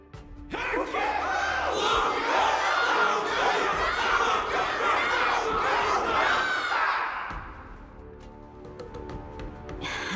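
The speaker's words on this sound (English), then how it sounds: "Everyone's cheering for you, Luca!" A loud crowd roars and cheers continuously at a martial arts ceremony event in Honkai Star Rail, a dense wash of voices that swells and then tapers off near the end.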